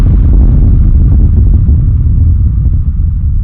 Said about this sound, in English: Next up, I'm cleaning the low end with a Pro Q3.